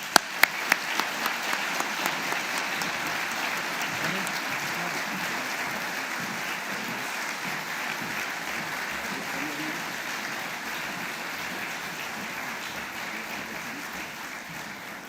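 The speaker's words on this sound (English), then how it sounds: "I'd like us all to give them another round of applause" Conference audience at a Latvian economics and innovation forum breaks into applause, opening with a few sharp individual claps before settling into a long, even wash of clapping that continues steadily throughout.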